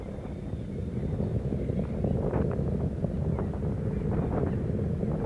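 Space Shuttle Columbia's three liquid-fuelled main engines during the STS-90 launch, heard as a steady, dense, low rumbling roar that holds at an even loudness throughout, with no talk.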